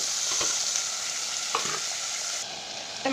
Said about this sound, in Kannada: ಸೊ ಈರುಳ್ಳಿ ಚೆನ್ನಾಗಿ ಫ್ರೈ ಆಗಿದೆ